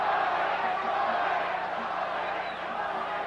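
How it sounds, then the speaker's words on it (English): Arena crowd cheering for the hometown fighter during Wilfredo Gomez vs Azumah Nelson in 1984, a sustained loud roar of many voices with scattered whoops, easing slightly toward the end. "The crowd trying to cheer on their hometown hero."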